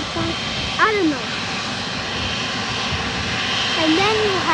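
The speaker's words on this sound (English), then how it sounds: "If you see the white body in the distance, that's the 747. It's Nippon Cargo." Nippon Cargo Boeing 747 seen at a distance at JFK Airport, its jet engines a steady broad roar throughout, with brief voices chirping over it.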